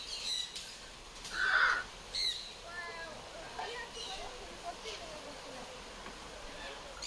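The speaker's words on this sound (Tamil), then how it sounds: "உள்ளே வந்ததுலேருந்து என் ஷோல்டர் மேலே தான் இருக்குது அந்த 3 பறவை" Birds give scattered chirps and calls inside an aviary at a bird park, faint and intermittent over a soft background hiss, with a person talking nearby.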